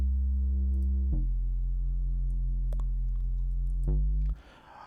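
Synth bass line for an Afro house track, heard alone: deep sustained low notes changing pitch every few seconds, with faint clicks above and no drums or voice.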